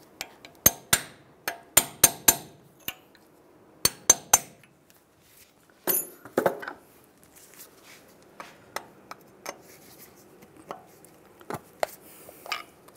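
Sharp metallic clinks and knocks from a small pry bar prying a part off a 2007-2013 Chevy Silverado 1500 front suspension during ball joint replacement, a dozen irregular close strikes and scrapes with pauses between.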